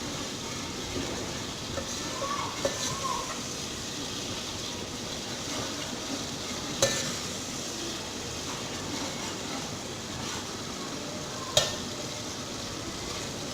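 Green chilli keema cooks in a pan, a soft, quiet sizzle running steadily while a spoon stirs, with a few sharp scrapes and clinks against the metal.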